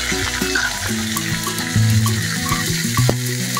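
Green chilies and spice paste sizzle loudly in a frying pan, a steady close crackling fry with brief stirring scrapes, no voices.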